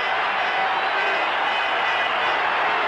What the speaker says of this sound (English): The crowd going wild here at the Coliseum